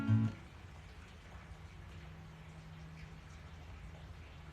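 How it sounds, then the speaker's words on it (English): Rain falling outside a house in Encinitas, a faint, steady patter and hiss heard from indoors, continuous and low in level after a brief louder knock at the start. "It's raining outside of my house. It's really going."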